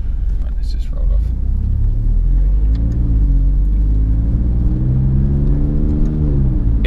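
Alfa Romeo Giulia Quadrifoglio accelerating hard, a loud, steady engine rumble with rising pitch that builds as it pulls away, close and sustained throughout.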